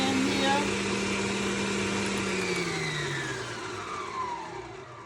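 An electric mixer beats banana cake batter in a pan, a steady loud motor whine that drops in pitch as it slows under the load.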